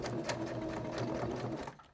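A short, close run of sewing machine stitching sews down the side of an upcycled necktie purse. It has a quick, even mechanical rhythm and is fairly quiet, with no talk.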